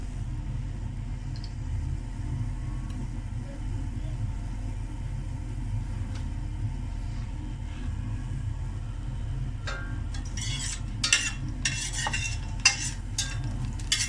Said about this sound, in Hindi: कड़कड़ाना शुरू हो गया है